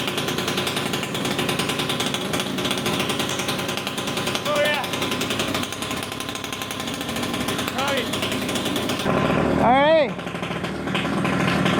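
A Honda Dio scooter with a 120cc stroker engine buzzes loud and raspy on its first test ride, with a rising rev sweep near the end, while voices cheer over it.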